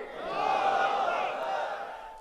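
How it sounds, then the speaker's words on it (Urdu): A large jalsa crowd at a religious gathering roars back in unison after a Nara-e-Takbeer call, a sustained massed chant of many voices that swells and holds for about two seconds. "آپ میرے ساتھ ایک نعرے کا جواب دیجئے گا، نعرہ تکبیر"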